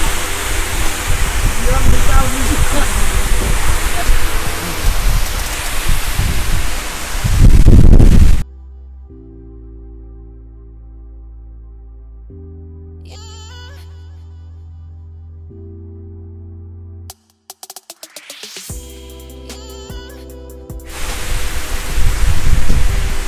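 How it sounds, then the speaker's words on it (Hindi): Khandadhar waterfall roars as a loud, steady wash of broadband noise close by. It cuts out midway for a stretch of tonal music, then the roar returns at the end. "शानदार नजारा, गजब का वाटरफॉल भाई"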